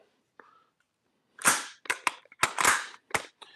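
An airsoft gas blowback rifle fed from a Guarder MWS magazine fires a quick string of sharp, loud cracks with hissy gas bursts, a short cluster of shots after a brief quiet start, close by.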